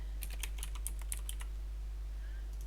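Quick bursts of typing on a computer keyboard, about a dozen crisp clicks in the first second and a half, then only a low steady hum remains.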